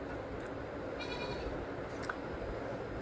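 Goats bleat a few times inside a goat shed on a small farm, short calls rising over a steady rough background noise, moderately near.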